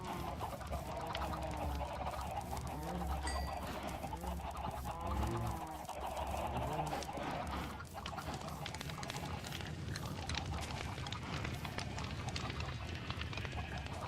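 Chickens on a video game farm cluck and honk continuously, a dense flock of repeated bird calls layered over a steady game background with no talking.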